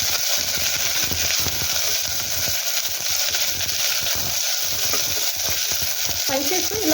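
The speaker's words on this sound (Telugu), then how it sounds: "ఉల్లిపాయలు కొంచెం ఫ్రై అవ్వాలి" Sliced onion and slit green chillies sizzle steadily in hot oil with cumin in a pan, a constant close crackle broken by irregular scraping strokes of a spoon stirring, with no talking.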